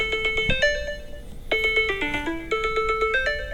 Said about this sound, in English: it'll now page your phone